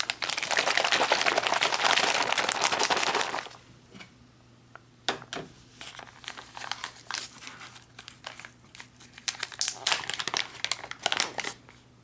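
A sealed MRE pouch holding mocha cappuccino powder and cold water is shaken hard, giving a loud, dense crinkling rustle for about three seconds, then sharper plastic crinkles and handling noises come and go.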